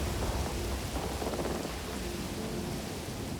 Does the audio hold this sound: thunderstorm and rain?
yes